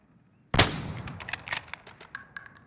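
Close gunfire in Call of Duty: Modern Warfare opens with one sharp, loud shot, followed by a rapid run of quieter shots and clatter, with no talking.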